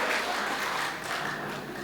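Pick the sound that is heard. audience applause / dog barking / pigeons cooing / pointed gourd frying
audience applause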